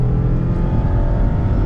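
A 2021 Mazda MX-5 Miata RF Club engine revs hard toward 7,500 RPM while driving, a loud, steady, close-up drone with a strong low-end roar and no talking over it.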